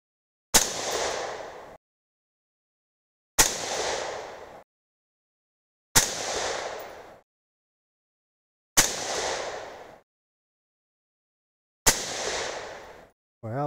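Five sharp .223 Remington rifle shots firing 75gr Hornady BTHP handloads, evenly spaced about three seconds apart, each a loud crack with a short decaying echo across an outdoor range, no talking between them.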